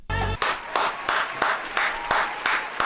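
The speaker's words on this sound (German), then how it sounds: "Bitte jetzt nicht mehr klatschen." Audience claps in a series of sharp, evenly spaced bursts, each one loud and close, with a busy, noisy opening moment before the rhythm settles.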